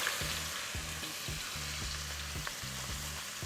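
Shrimp sautéing in a pan for Hong Kong-style fried rice, a steady close sizzle that runs unbroken throughout, overlaid by a repeating rhythmic low clatter from the stove and pan.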